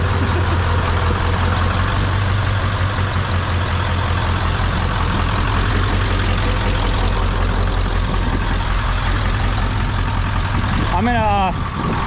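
An old Ford OBS truck with a 7.3 diesel idles up close, a steady loud low rumble and clatter running the whole time, with people talking over it.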